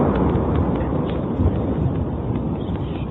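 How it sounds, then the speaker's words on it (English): A meteor's sonic boom off the Massachusetts coast comes through as a dense, rumbling roar that stays loud and sustained across the whole short stretch. "It was such a loud boom that everybody through Massachusetts has heard this sonic boom come in"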